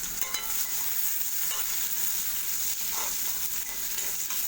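A large chopped onion fries in about a tablespoon of oil, giving a steady, close, even sizzling hiss throughout with faint occasional stirring and no talking.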